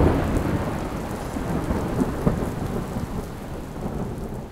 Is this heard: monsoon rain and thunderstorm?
yes